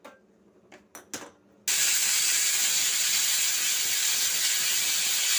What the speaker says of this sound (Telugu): 5 విజిల్స్ వచ్చేసాయండి.